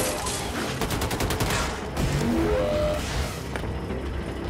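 Rapid machine gun fire in the shooter Wolfenstein 2: The New Colossus rattles out in a dense, fast burst, followed by whooshing and mechanical game effects, with no one talking.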